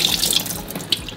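Water runs from a kitchen tap while olives are rinsed, a steady close splashing stream with small gurgles and one brief louder splash near the end.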